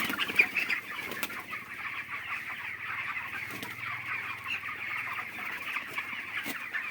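Broiler chickens cluck steadily in a poultry farm shed, a dense, continuous chorus of many birds with occasional louder calls and a brief wing flap, with no voices present.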